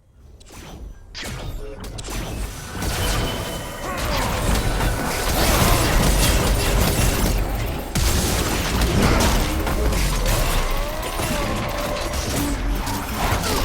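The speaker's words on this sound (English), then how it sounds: "Your team has destroyed a turret." A turret being destroyed in League of Legends, with an opening crash and heavy booms swelling into a loud, sustained roar of crumbling debris, dense game effects and explosions throughout.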